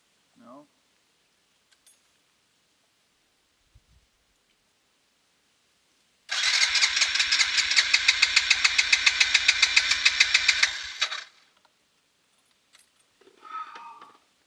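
Motorcycle engine failing to start, probably flooded, on a mountain road loop in northern Vietnam: a loud mid-pitched rumbling crank runs for about five seconds, with faint voices before and after it.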